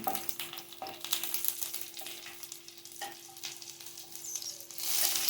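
Mushrooms sauté in a pan for a mushroom pepper fry, a close sizzle with sharp clinks and scrapes from stirring, and the frying hiss swells near the end.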